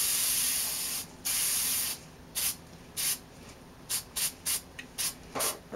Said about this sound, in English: Now it looks like black paint when you first spray it on.